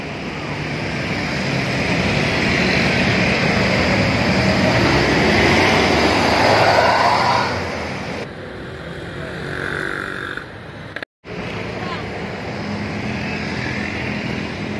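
A Mahendra Transport bus with a Scania engine drives past, a loud broad rumbling roar that swells and then drops off, followed by quieter road noise and a brief cut.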